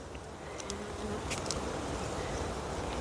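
Honey bees buzz at an open hive during an inspection, forming a dense, steady droning swarm close by, with a few individual bees flying past more loudly.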